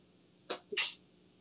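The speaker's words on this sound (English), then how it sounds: "You sneeze?" Two quick sneezes come close together, a short sharp burst followed by a fuller one, close and alone in a quiet room.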